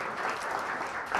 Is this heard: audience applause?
yes